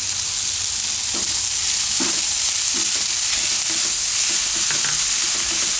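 Ginger, chili and garlic paste fries in a pan with onions and potatoes, making a loud continuous sizzle broken by light rhythmic stirring scrapes.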